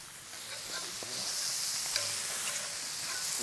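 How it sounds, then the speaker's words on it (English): Chorizo patties sizzle on a Vulcanus grill as a utensil scrapes and breaks them up, with a steady frying hiss and small irregular clicks and taps close by. "now I'm actually breaking up our little chorizo patties"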